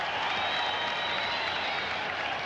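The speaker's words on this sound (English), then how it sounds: "The crowd is very partisan for Hagler, as you can see or hear" A partisan boxing crowd cheers for Marvelous Marvin Hagler during his bout with Willie Warren, a dense, steady roar of voices and applause filling the arena without a break.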